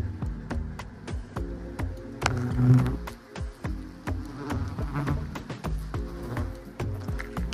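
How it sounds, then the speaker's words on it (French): European hornets buzz loudly and close, their droning wingbeats rising and falling as they dart around and attack during a nest removal, with several insects passing near in irregular bursts. "Là, c'est un frelon européen."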